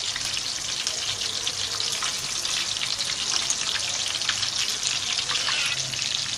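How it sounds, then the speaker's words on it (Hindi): Chicken sticks fry in a pan with a steady, even sizzle and crackle of hot oil that holds through the whole stretch without talk. "अब एक साइड इसकी फ्राई हो चुकी है, अब हम पलट देंगे।"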